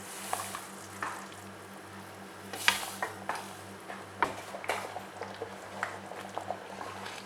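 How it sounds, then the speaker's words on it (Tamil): Semolina stirred into boiling water in a pot for rava kesari, with irregular soft scraping and clinks against the pan over a low steady hum, close and fairly quiet. "இப்போ நான் வந்து ரவை சேர்த்துக்கிறேன்."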